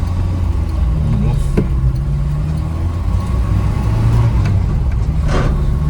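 A classic Ford Escort engine runs on choke while cold, giving a steady, loud, low rumble throughout. Someone talks over it.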